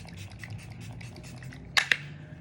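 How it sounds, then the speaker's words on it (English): Tarte Shape Tape Stay Spray setting spray gives two quick, close hissing spritzes in fast succession after a stretch of quiet room noise. "So I'm gonna go in with this. It's the Tarte Shape Tape Stay Spray"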